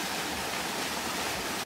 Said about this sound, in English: This is Socha River and it's pretty big and also very beautiful at some point.